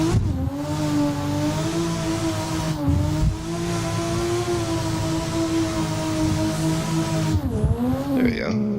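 A sim racing car drifts, its engine holding a steady sustained drone with a slight pitch dip and recovery near the end, loud and continuous throughout.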